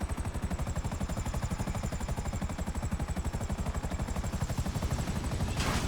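Video game helicopter in flight, a steady loud rapid rotor thump with a whining engine tone that runs continuously and close throughout, with no voices over it.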